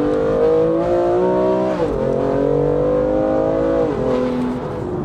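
Modified BMW M2 engine revving and spinning up as it accelerates, a steady close droning tone that climbs in pitch, dips briefly and rises again, loud and continuous with no talking.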